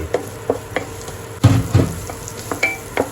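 Pounded dried chilies are stir-fried over low heat in a wok, with rhythmic spatula scrapes and clanks cutting through a continuous sizzle; no talking.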